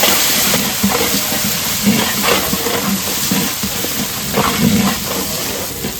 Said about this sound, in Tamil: உரிச்ச நாட்டு வெங்காயம் அப்படியே சேர்த்து எல்லாமே நல்லா வதக்கிறோம்